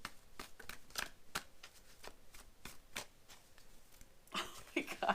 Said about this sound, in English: It's where the cards land as I pause in the shuffle.